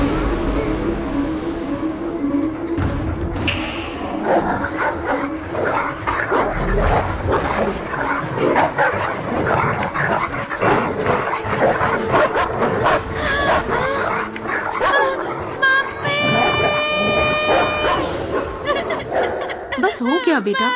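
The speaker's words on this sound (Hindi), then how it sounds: "सिर्फ एक आम के लिए बच्चे पर कुत्ते छोड़ता है क्या?" Dogs yip and bark amid chaotic shouting as they are set loose on a child over a mango, with voices talking and crying throughout and a final burst of high barking near the end.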